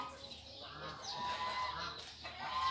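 Chickens, hens and roosters kept together, cluck and murmur faintly on a farm alongside ducks and geese, a soft continuous flock chatter at a distance.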